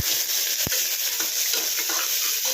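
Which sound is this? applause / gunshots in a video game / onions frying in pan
onions frying in pan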